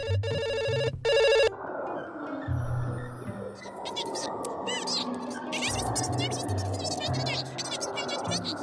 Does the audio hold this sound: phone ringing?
yes